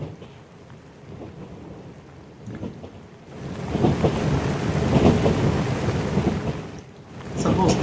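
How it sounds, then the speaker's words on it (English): Rain and train background sounds mixed in the Noisli ambient sound app: steady rain hiss with low rumbling, growing louder and denser about halfway through, with no talking. "So I'm going to press the two sounds, rain along with train."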